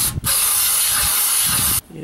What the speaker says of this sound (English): Then I'm going to spray it again and clean it all out.